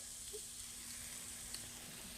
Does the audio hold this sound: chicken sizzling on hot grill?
yes